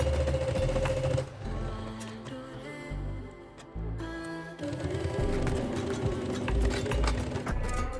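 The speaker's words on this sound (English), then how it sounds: "Sew along the shoulder line." A sewing machine stitches a shoulder seam on a kimono dress, joining front and back pieces in steady mechanical bursts with short pauses between runs, fairly close and loud, with no talking.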